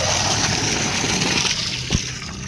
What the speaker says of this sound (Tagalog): So ganyan kalakas ang tubig